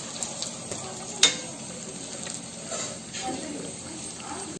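Donuts deep fry in oil with a soft, low bubbling sizzle and a single sharp clink partway through.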